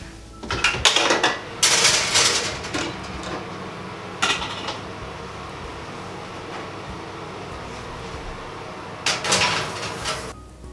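Metal baking trays of sweet potato and butternut squash go into an oven with a few loud clanks and slides, then an oven door bangs shut near the end, close by and with no talking.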